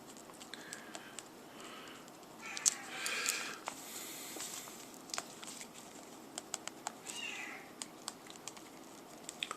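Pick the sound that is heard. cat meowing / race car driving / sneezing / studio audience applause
cat meowing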